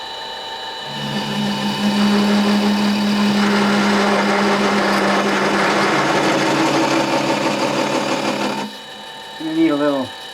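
A mini lathe spins up and runs steadily with a loud motor whine and hum throughout, working on a pellet gun repair, then winds down and stops near the end.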